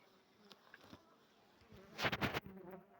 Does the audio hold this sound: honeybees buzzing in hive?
yes